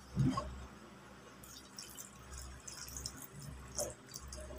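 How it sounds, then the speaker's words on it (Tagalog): Water is poured into a scooped mixture, giving a soft, close splash and trickle with light dripping that comes and goes over a faint background hum. "At lagyan natin mga kaibigan ng tubig."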